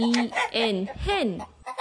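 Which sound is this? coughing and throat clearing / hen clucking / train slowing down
hen clucking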